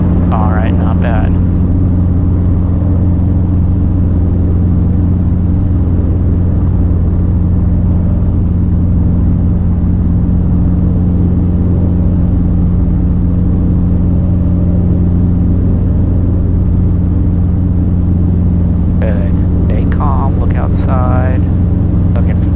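Robinson R22 helicopter taking off from midfield during a flight lesson: a steady, loud rotor and engine drone with strong low harmonics runs throughout, with brief radio-style voices at the start and end.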